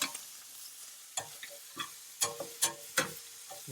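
Shrimp cooking in a pan for shrimp and grits, flipped to cook the other side, with sizzling and short scraping, stirring bursts that come and go over a quiet background.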